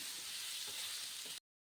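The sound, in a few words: potatoes frying in a pan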